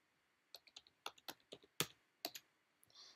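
Fingers tap out a short string on a computer keyboard, about a dozen crisp, close keystrokes in uneven bursts, quiet and alone with no voices.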